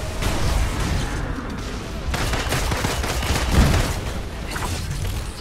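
Dense gunfire and blasts from combat in the Marvel's Avengers video game form a continuous loud barrage of rapid shots and booms that barely lets up across the whole stretch.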